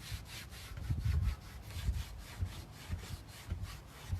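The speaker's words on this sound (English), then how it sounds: "Taking off all this wax. It's very time consuming" Hand scraping or rubbing of Annie Sloan wax from a wooden furniture piece, a steady rasping back-and-forth with rhythmic strokes about every half second, close and moderately loud with no talk.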